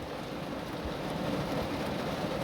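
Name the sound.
rain falling on top of a car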